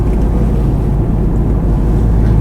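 Subaru Forester SH fitted with a custom hand-made exhaust with two back boxes, giving a deep, loud, continuous engine rumble close to the microphone, with no voices.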